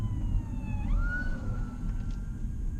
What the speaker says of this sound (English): got a couple police cars